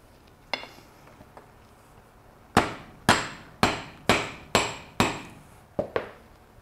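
A hammer taps a 25mm end cap down onto a lightweight DIY solar blanket frame. There is one faint tap, then seven sharp, close, evenly spaced knocks with short ringing decays and no talk.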